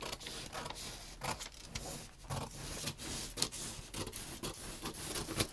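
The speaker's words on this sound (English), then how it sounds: "So I'm going to cut up this dart leg and then along here." Scissors snip through a paper sewing pattern along a dart leg, a run of close, crisp cuts with small rustles and creaks of the paper between them, and no talking.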